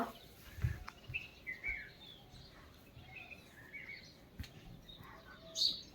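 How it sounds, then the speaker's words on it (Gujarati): Birds chirp and tweet intermittently at a moderate distance, short scattered calls over quiet background hiss. "પક્ષીઓ એ બોલી રહ્યા"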